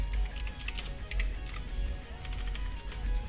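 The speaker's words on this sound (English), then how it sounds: "My keyboard's kind of loud." Rapid clacking keystrokes ring out from a loud computer keyboard, close and distinct, coming in quick bursts with short pauses between them and no voices.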